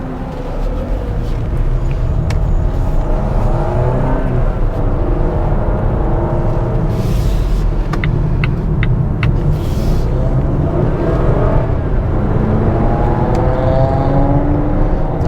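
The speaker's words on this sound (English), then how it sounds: "we're gonna check out the acceleration of this vehicle in just a little bit to see how it handles in the real life traffic situations" A 2021 Volvo XC40 compact luxury SUV accelerates through real-world traffic, heard from inside the cabin as a loud, constant road and engine rumble with engine tones rising and falling a couple of times.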